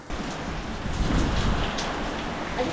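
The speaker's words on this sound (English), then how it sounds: "I didn't know it was raining." Steady rain pours down at a resort in the Bahamas, a dense continuous hiss of drops on surfaces, close and fairly loud throughout with no voices.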